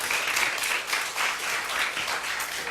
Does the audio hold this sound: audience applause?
yes